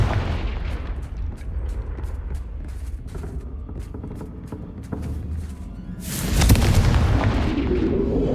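A Confringo fire-blast spell from Hogwarts Legacy erupts in a loud, sudden explosive burst near the end, after a stretch of crackling impacts and rumbling game effects, with no voices.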